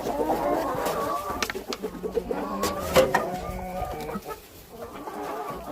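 Several chickens cluck and murmur close by in an irregular chorus, with a few sharper squawks mixed in.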